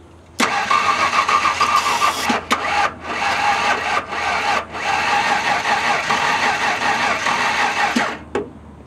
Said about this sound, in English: But let's see if it fires off with some stuff down the intake hole.